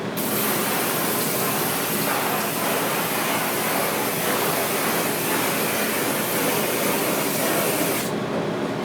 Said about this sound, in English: You will then rinse with water.